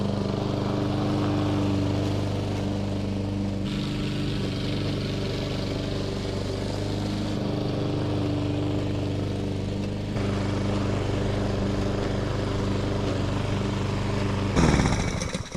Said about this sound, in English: I don't know if you can hear it in the background, but it's time for a little motorcycle ride